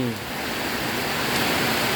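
Heavy rain pours down steadily on a rice farm during a downpour, a dense, even wash of hiss with no break.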